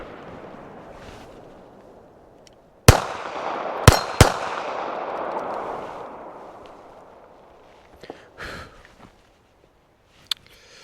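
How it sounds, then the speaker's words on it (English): Beretta 30X Tomcat pistol firing during mag dumps outdoors, a few sharp loud shots around the middle followed by a lingering echo, then a couple of fainter distant reports. "keep doing the mag dumps, see what happens"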